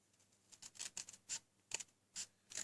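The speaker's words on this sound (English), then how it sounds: "I'm just going to use my regular snips." Small snips cut through card stock for a pop-out box card, giving a series of short, crisp snipping bursts at an uneven pace, close and fairly quiet, with no talking.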